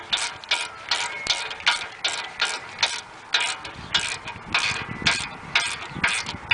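A hand ratchet tightens a tie rod castle nut on a Toyota Sequoia, its close, crisp clicking strokes repeating in a quick, steady rhythm, about a dozen pulls in a row.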